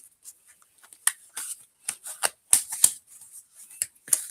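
A tarot deck being shuffled by hand gives a run of crisp, papery riffles and flutters in uneven bursts, close and fairly quiet.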